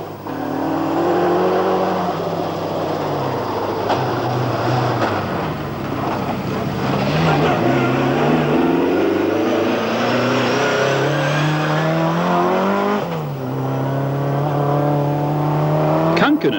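A 1985 World Rally Championship car drives over a rock-strewn rally stage, its engine loud and close, rising and falling through the gears, with a commentator talking over it throughout.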